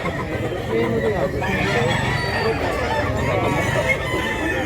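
Roosters and hens at a Cebu fowl market, including a white bangaso-type cock, crow and cluck amid a busy, steady din, with people talking nearby throughout.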